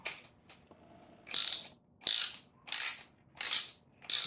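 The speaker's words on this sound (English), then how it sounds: "And then I'm just going to grab a wrench." A 13 mm ratcheting wrench turns a thread repair insert into the engine block of a 2008 Acura MDX. It gives four loud, evenly spaced ratchet bursts at close range, with softer clicks before them and no talking.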